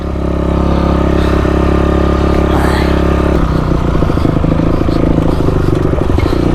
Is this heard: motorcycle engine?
yes